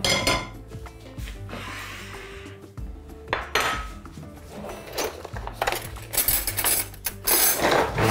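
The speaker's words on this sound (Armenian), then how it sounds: "Վերցնում ենք փոքրիկ կաթսան," A small cooking pot is lifted and handled on a kitchen counter, giving close metallic clanks, knocks and scrapes in irregular bursts. Quieter pauses fall between the bursts and a faint hum runs underneath.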